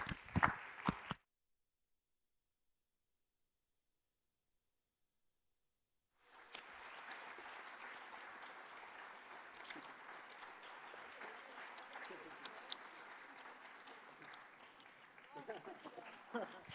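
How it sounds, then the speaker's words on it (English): A short burst of sound, then several seconds of silence, then a conference audience breaks into sustained applause for speakers returning to the stage, a broad even clapping that continues to the end. "I'd like to welcome our speakers back on the stage so we can give them one more round of applause"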